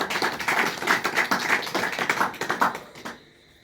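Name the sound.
audience clapping loudly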